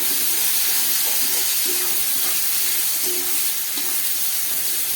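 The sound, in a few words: water added to hot powdered spices, sizzling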